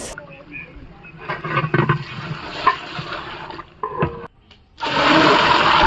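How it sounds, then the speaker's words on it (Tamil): Kitchen clatter and a muffled voice, then water pours into a large pot for vegetable biryani with a steady rushing splash toward the end. "அடுத்து அளவு தண்ணி ஊற்றிக்கலாம்"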